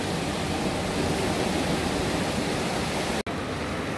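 A steady, dense rush of falling water roars without pause, broken only by a brief dropout near the end.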